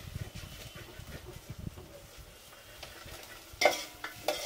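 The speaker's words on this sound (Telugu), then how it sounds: "ఇట్లా మంచిగా ఫ్రై కావాలి" Spices and rice ingredients frying and being stirred in a pan for Telangana Bagara rice, a dish cooked in big pots at weddings; soft sizzle under scraping stirs, with a couple of sharper clanks near the end.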